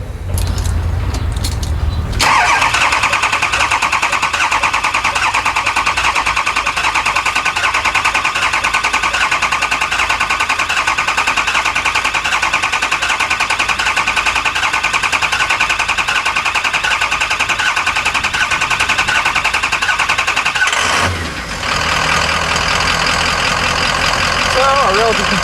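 6.0 Powerstroke turbo diesel engine in a lifted 4x4 van cranking during a compression test, a loud steady whirring drone that runs unbroken for about twenty seconds, pauses briefly, then resumes.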